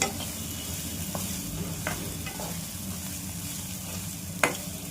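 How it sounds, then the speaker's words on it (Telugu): Green chili paste fries in a pan with a continuous close sizzle, stirred now and then with soft scrapes and a sharp utensil tap near the end. "ఇలాగా పచ్చివాసన పోయేంత వరకు వేయించుకుందామండి."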